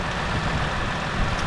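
Chevrolet Spark (The Next Spark) with its 1000cc three-cylinder engine idling, a steady low droning hum heard close and fairly quiet, with no talk over it.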